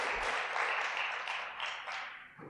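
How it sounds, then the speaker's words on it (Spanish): A church congregation gives a warm round of applause for the worship band, dense clapping filling the room throughout at moderate volume and fading slightly at the end. "Le podemos dar un fuerte aplauso a nuestro grupo de alabanza"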